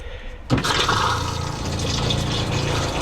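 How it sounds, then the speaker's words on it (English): A Winnebago Solis RV toilet flushes water mixed with pink antifreeze during winterizing, starting with a sudden close, loud rush that settles into a steady gurgling stream. "let's do the same thing for the toilet. We want to make sure we get some pink out of the toilet there."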